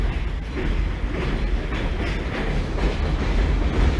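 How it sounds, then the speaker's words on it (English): Trains rolling past an industrial yard where trucks and forklifts work, a steady, loud rumble with faint clickety-clack running through the whole stretch and no voices. "I'm over here by like some industrial thing right here, like trucks and forklifts and trains."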